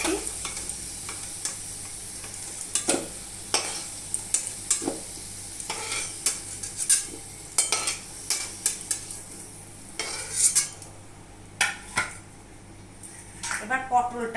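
Potato pieces fry in hot oil in a pan already used for frying rui fish, a close steady sizzle broken by repeated sharp scrapes and clinks of a spatula stirring against the metal.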